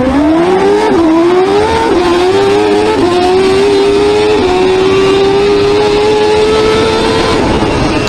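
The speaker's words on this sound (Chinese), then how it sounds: "先来看一段加速全过程吧。" A heavily modified Mitsubishi Lancer Evolution IX with a 1.8-litre 4G63 engine making over 2000 hp screams through a full drag-strip launch, very loud and sustained, its engine note climbing in steps through quick gear changes.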